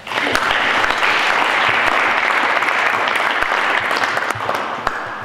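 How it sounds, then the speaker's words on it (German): An audience at a farewell ceremony for local politicians in a German town claps warmly, a loud, dense round of applause with sharp individual claps standing out, tapering slightly at the end. "ich glaube auch in Abwesenheit wollen wir den mal einen Applaus zukommen lassen"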